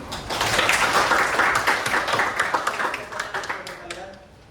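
A classroom audience claps for Dimas after his presentation, a dense patter of hands that swells early, holds, then thins and fades toward the end, with voices murmuring underneath.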